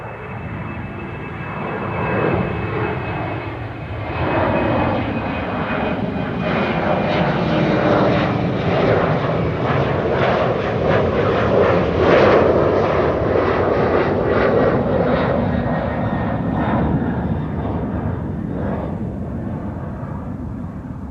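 A British Airways airliner arriving at Amsterdam Schiphol, its engine roar swelling to a broad peak near the middle and easing slightly toward the end, with no voices.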